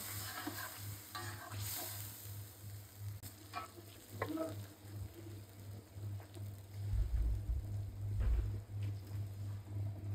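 Singi fish with potato and tomato is stir-fried in a pan, a continuous crackling sizzle broken by spatula scrapes and clinks, with a low hum below and a louder rumbling stretch toward the end.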